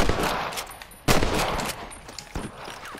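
Gunfire in the Western game Red Dead Redemption, a dense, loud fusillade of overlapping shots with sharp louder cracks punching through the steady rattle.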